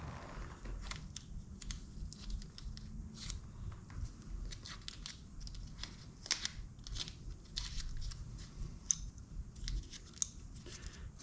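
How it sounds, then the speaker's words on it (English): Masking tape crackles and tears as it is wound around a wrench's jaws at close range in a quiet workshop, soft intermittent rips and crinkles spread over several seconds without talk. "I'm going to put tape on my wrench so I don't scratch my valve."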